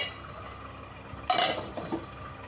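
A spoon clinks and scrapes inside a pot while stirring a peanut and ridge gourd dal curry, a short burst of metallic clatter after a quiet simmering hum, with no voices.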